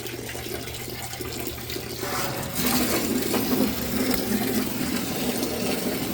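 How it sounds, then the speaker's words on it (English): Water begins rushing through pipes into a well water filter a few seconds in as a valve is opened, then keeps flowing in a steady, loud wash over a low background hum. "The water's coming in,"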